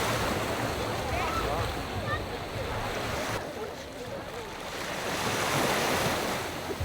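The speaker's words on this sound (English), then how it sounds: "So this is the Adriatic Sea here." Waves of the Adriatic Sea wash and hiss continuously with gusty wind buffeting the microphone, the surf swelling in and out.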